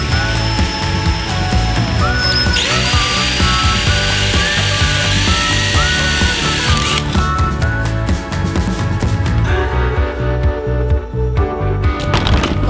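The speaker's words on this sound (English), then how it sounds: "Now I'm gonna pre-drill these holes." Power drill pre-drilling screw holes in wooden panelling inside a camper van conversion, a steady whirring burst of several seconds heard beneath loud background music.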